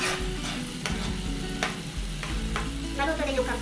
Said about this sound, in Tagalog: Ilagyan natin ang kangkong.